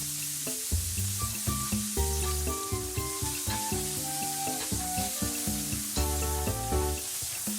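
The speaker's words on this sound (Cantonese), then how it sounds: "開個油鑊，落四季豆落去" Pre-boiled green beans stir-fry in hot oil in a wok, a steady close sizzle with light tossing, running beneath prominent rhythmic background music.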